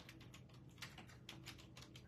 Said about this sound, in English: I'm like the worst right now typing